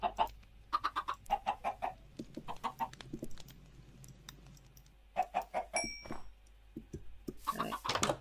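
Chickens cluck in bursts of short, clipped calls in a video game, fairly close, with quiet gaps, a few faint chimes and a scratchy rustle at the end.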